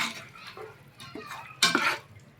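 A cup of yogurt is stirred into raw mutton for yakhni pulao, giving soft, wet squelching and scraping strokes against the pot, irregular and close, with one louder scrape near the end.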